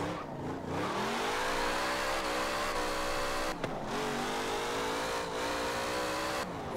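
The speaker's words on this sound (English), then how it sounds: "I like the sound of this car." A car engine in Forza Horizon 4 revs continuously, pitch rising and falling through gear changes, loud and close with no talking.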